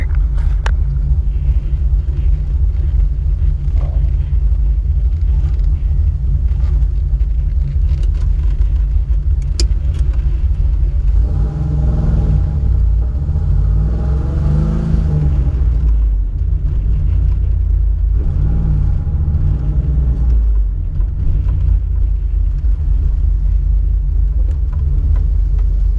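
A car with an LT1 engine swapped to an LS 411 PCM drives steadily, its low engine rumble continuous and close throughout, swelling a little under light acceleration midway.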